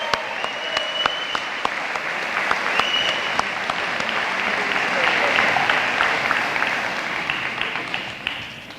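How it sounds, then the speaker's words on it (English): An audience at a high school football banquet breaks into sustained applause, a dense, even wash of clapping that swells toward the middle and tapers off, with faint voices mixed in. "let's give a round of applause for all these young men"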